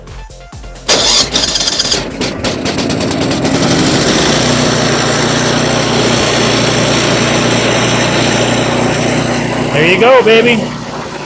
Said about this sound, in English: I'll go ahead and give it a start.